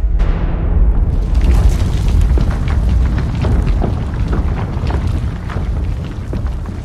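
A huge explosion as rock is blasted apart in a cave beside an underground sea, heard as a sudden booming burst that spreads into a long, loud, deep rumble and roar lasting several seconds.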